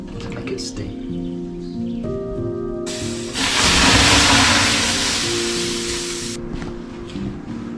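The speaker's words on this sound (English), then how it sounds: "We pour water over the rocks to make it steam." Water poured on hot Finnish sauna rocks erupts into a loud, sustained hiss of steam that swells and then cuts off, with a low hum underneath.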